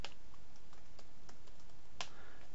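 Computer keyboard keys tapped while entering login credentials and a product key into a desktop application, a light run of scattered clicks with one sharper keystroke standing out, close and alone.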